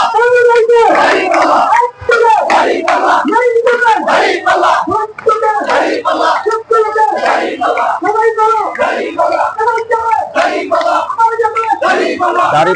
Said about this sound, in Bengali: দাঁড়িপাল্লা দাঁড়িপাল্লা স্লোগানে মুখরিত আজকের এই মিছিল।